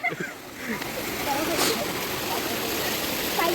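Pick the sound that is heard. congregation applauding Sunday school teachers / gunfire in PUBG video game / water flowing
water flowing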